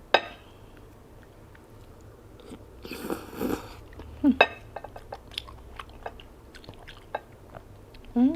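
Sharp clinks and light knocks of dishes scattered through a quiet stretch, with a brief rustly burst near the middle and some soft crunchy sounds.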